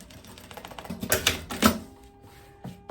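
A sewing machine stitches the zipper and front crotch seam of a viscose jumpsuit in short, rattling bursts that rise and fall, close up and with no talking.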